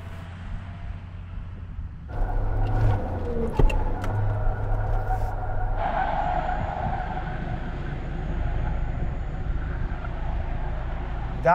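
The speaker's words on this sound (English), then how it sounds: "Shall I do some celebratory donuts?" A Suzuki Jimny off-roader doing celebratory donuts, its engine droning steadily and loudly with a rise in revs partway through and a sustained mechanical rumble, no talk heard.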